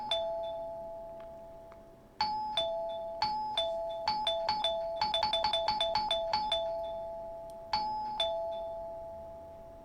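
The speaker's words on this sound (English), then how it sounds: "he was pressing the chime frantically," A doorbell chime in the Corpse Party: Blood Drive video game is pressed over and over, the bright two-tone dings arriving in an uneven flurry, some rapid and some spaced apart, each one ringing out and fading, with no voices.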